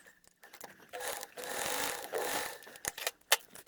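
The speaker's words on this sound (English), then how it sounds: "after we've top stitched each of those levels" Sewing machine top stitching through the layered pockets of a fabric bag-style wallet, a sustained whirring run of stitches followed by a few clicks and handling taps, close, with no speech.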